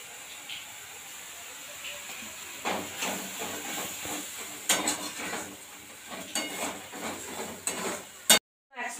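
Masala simmering in a pan on a gas stove after water is added for a fish curry, a steady sizzling hiss with bubbling bursts that swell as the flame is raised, ending abruptly.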